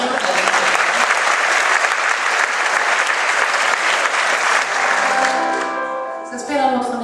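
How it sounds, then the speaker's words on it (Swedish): Loud crowd applause at a Swedish awards event honoring a newborn baby girl, dense and sustained for several seconds, then tapering off as music begins to come in at the end. "Så en applåd för Skrynkliga Lillskiten."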